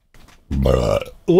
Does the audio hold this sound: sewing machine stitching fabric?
no